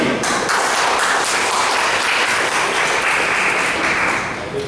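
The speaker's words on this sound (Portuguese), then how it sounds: "Um aplauso para o David." Loud, dense audience applause for a presenter at a PowerPoint party event, steady clapping from a room full of people that tapers off slightly at the end.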